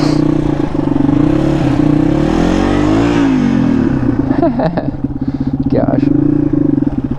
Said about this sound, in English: I'm going to do one more burnout.